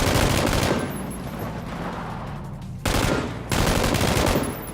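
An M249 light machine gun fires in PUBG, with long sustained bursts of rapid automatic fire, a short pause, then more dense close gunfire.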